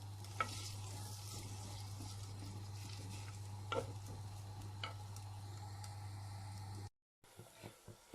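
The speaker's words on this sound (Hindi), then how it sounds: "इसको हम भून लेंगे।" A steady, soft sizzle of ginger garlic onion paste frying in a pan, with occasional scraping stirs and a low electrical hum underneath, briefly cutting out near the end.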